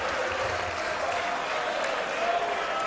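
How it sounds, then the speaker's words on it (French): Members of a national parliament applaud during a censure motion debate, producing steady, dense clapping from a large chamber with a faint murmur of voices beneath it. "Merci d'applaudir Martine Aubry."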